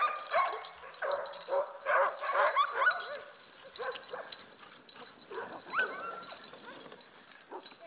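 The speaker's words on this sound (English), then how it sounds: "dog sledding is a whole lot of fun, but it's also about perseverance and teamwork" Sled dogs of a racing team bark, yip and whimper excitedly before a sled ride, a chorus of overlapping calls from several dogs close by and farther off, with no talk.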